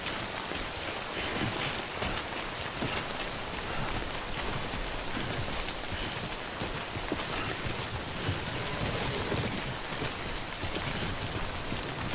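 Steady timefall rain pours in Death Stranding, a dense, even hiss of drops drumming on surfaces that holds at constant loudness throughout with no voices.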